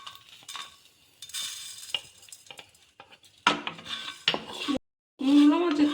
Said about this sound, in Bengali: আমি এগুলো এবার একটা শুকনো কড়ায় ভেজে নেব।